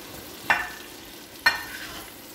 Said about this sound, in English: I'll just fry it a little.